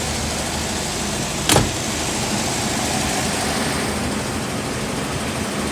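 A car engine held at about 2000 RPM while the air-conditioning refrigerant is recharged, a steady, even engine drone close by with one brief sharp click partway through.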